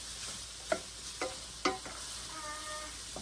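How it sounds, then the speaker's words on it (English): Onion cooking down and browning in a pan, a soft low sizzle punctuated by a few distinct spoon clicks and stirs, fairly quiet with no talking. "we're just going to let that cook until the onion is nice and brown and softened"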